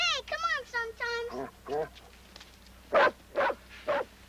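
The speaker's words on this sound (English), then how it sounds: "Don't worry, the dog will be with him." A dog gives a run of high, whining yelps, then a few sharp barks spaced about half a second apart, close and fairly loud.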